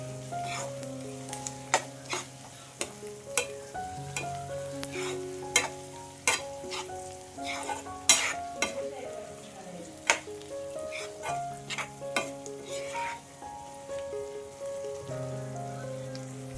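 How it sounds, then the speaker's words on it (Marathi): A spoon stirs ginger garlic paste in a sizzling pan for Konkani-style zunka, with repeated scraping clacks over a steady fry; faint background music plays. "आता आपण हे छान मिक्स करून घेऊया."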